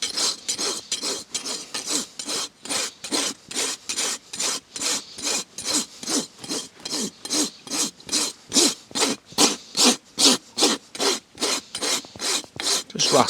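A farrier rasping a horse hoof, filing around two-thirds of the foot with rhythmic back-and-forth rasp strokes, about thirty harsh scraping passes in steady succession, close and loud with no talking.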